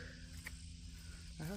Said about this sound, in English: the cicadas are not playing around back here